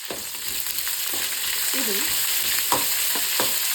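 A finely chopped onion fries in a pan with a steady, close sizzle, broken by scraping stirring strokes, and a brief spoken word near the start.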